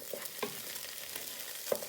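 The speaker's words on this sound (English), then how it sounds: "you give it a good stir with your wooden spoon so it starts to sizzle" Chorizo and bacon fry with a steady close sizzle in a pan, broken by a few soft knocks and scrapes from a wooden spoon stirring them, with no talking.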